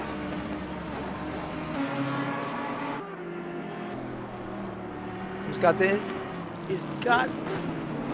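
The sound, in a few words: race car engine in video game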